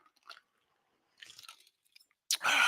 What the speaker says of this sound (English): I'm just taking a little sip of my rum diggity here.